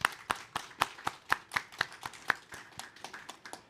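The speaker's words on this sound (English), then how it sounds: "Let's give a big round of applause to our panelists." A small group claps for conference panelists in a steady, even rhythm, each clap distinct, fairly quiet and with no voices.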